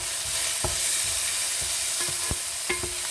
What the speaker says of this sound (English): Mix them all together.